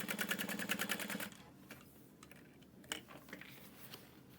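A sewing machine stitches a handbag pocket in a fast, steady rattle for about a second, then stops, leaving only faint handling clicks and taps.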